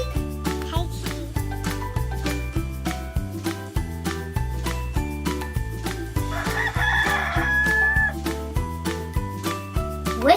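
A rooster crows once, a strained cock-a-doodle-doo rising over a rhythmic, bouncy background music track that keeps going throughout.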